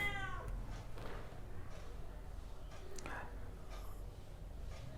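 A pet cat meows indoors, a couple of faint high mewing cries over quiet room noise.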